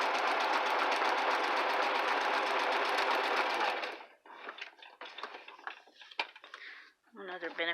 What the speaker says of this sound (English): I can sew as fast as I want, and it's not shaking the camera because it's not on the same table